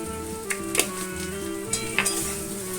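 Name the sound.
spices, ginger garlic paste and salt being sautéed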